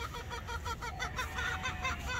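Farm chickens cluck in a steady, busy chorus of repeated calls, fairly close, over a low background hum with no speech.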